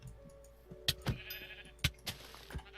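Wild sheep in Minecraft bleat in a few short, sharp calls with faint ticking between them, fairly near and alone.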